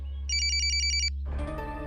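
A mobile phone rings for an incoming call, a quick repeating electronic trill in bright pulses over a low hum, then cuts off abruptly into a muddle of background sound.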